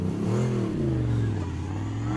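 A V8 engine swapped into a Nissan S15 drift car revs hard at a British Drift Championship qualifying event, a loud sustained roar whose pitch climbs and then settles into a steady high drone, close and continuous.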